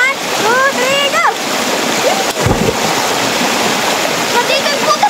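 People jump into a waterfall pool, landing with one deep, heavy splash midway, surrounded by the steady rush of falling water and excited shouting voices.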